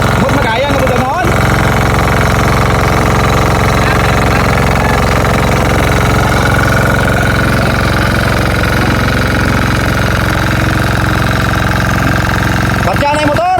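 A steady, loud boat motor drones throughout with a constant low hum, while voices talk over it.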